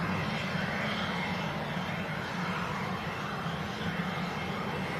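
A jet airliner's engines roar steadily at Leeds Bradford Airport as a plane waits near the runway, a broad, continuous rumble and hiss heard from a distance.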